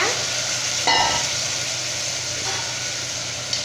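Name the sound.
sautéing kidney beans with tomato and onion in a pan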